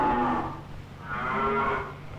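Cattle at a big stockyard, moo twice in long, loud, drawn-out calls with a short lull between them, no voices.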